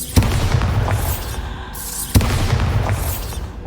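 Bombarda explosion spell cast in Hogwarts Legacy, two deep booming blasts about two seconds apart, loud and close with rumbling tails inside a dense game soundscape.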